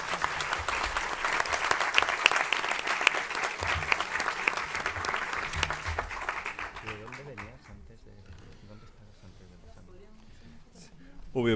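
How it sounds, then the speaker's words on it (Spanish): Spontaneous audience applause for a panel at a streamed conference event, a dense, sustained wash of clapping for about seven seconds that then fades out, leaving a voice speaking over faint leftover claps. "Obviamente el aplauso espontáneo ha sido para premiar la participación del panel"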